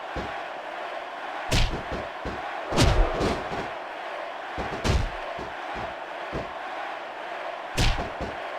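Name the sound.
wrestling crowd cheering in WWE SmackDown vs Raw 2006 video game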